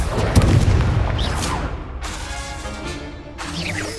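A fiery Confringo spell blast in the Hogwarts Legacy video game, a heavy booming impact with crackling bursts and rumbling debris, followed by further sharp hits and magical whooshes close up, no talk.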